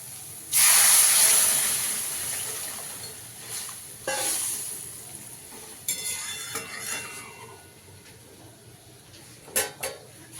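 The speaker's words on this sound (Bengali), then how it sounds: "এখানে আমি একটু গরম জল করে রেখেছি, দিয়ে দেবো" Hot water poured into a pan of spice paste frying in oil for a Bengali hilsa fish curry, giving a loud sharp hiss and sizzle that fades, followed by softer bursts of sizzling and clinks of a utensil against the pan.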